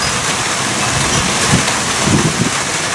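Steady rain falls outdoors around garden planters of herbs and flowers, a dense continuous hiss with slightly louder patter in a few spots, close and without talk.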